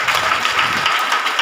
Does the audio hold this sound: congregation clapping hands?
yes